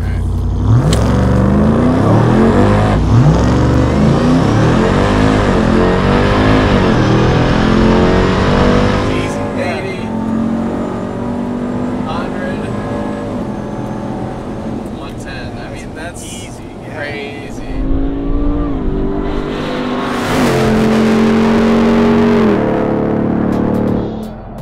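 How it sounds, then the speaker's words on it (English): A Hennessey Mammoth 1000 RAM TRX pickup, a modified performance truck on big off-road tires, launches hard from a brake-held start, its engine roaring loud and close as it pulls through the gears, then easing before surging again. "left foot on the brake and then go to about 1500 and then just dump it."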